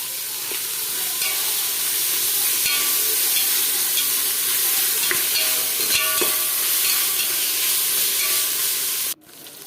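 Onion with mint leaves and coriander sizzles steadily in a hot pan for mutton biryani while a utensil scrapes and stirs at irregular intervals, ending with a sudden drop in the sizzle.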